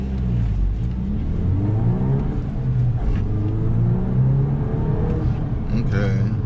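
A front-wheel-drive Golf R pulls hard under acceleration, a steady mid-range engine drone and road rumble rising in pitch across the whole stretch, heard from inside the cabin.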